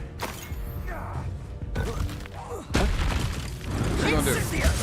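Confringo blasting spell in Hogwarts Legacy, a couple of sharp magical bursts and booms in quick succession, loud and close, among busy combat effects with a voice talking over them.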